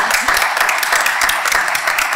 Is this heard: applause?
yes